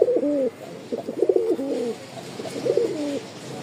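Pigeon pair, a male and female of a racing or flying breed, cooing in several close, repeated low throaty phrases with short pauses between calls.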